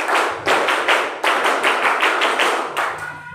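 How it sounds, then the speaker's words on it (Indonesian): A group performs the Pramuka scout clap at a scout leaders' gathering, with a rhythmic series of about eight or nine sharp, loud tap-like claps in quick succession and no voices. "silakan tepuk pramuka"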